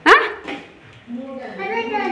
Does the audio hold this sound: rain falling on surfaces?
no